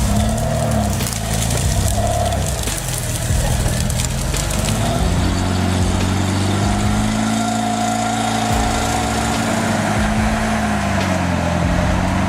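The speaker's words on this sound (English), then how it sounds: "built on a GAZ 66 frame with massive Kirovets wheels and a roaring Volga engine," A custom off-road truck built on a GAZ 66 frame with Kirovets wheels and a Volga engine runs nearby with a deep, throbbing motor hum whose pitch rises and sags as it revs and works over rough ground.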